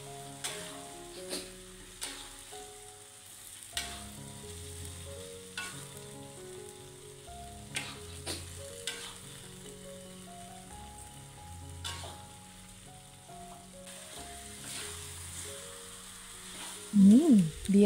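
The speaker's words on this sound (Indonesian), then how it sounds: "Lalu kita masukkan ayam yang kita goreng tadi ya. Kita aduk-aduk hingga tercampur rata." Fried chicken stirred into red chili balado sauce in a pan, a steady close sizzle with periodic scraping stirs and light knocks, no talking.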